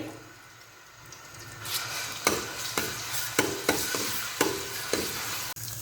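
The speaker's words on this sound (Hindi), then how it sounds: "लहसुन को हम एकदम से कर लेंगे फ्राई" Garlic paste hits hot oil and sizzles, building to a steady fry, with a series of sharp scraping stirs cutting through the hiss.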